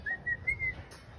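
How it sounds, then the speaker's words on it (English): A parrot gives a series of short, clear whistles on one pitch, repeated about four times, close by over quiet room noise. "He's whistling."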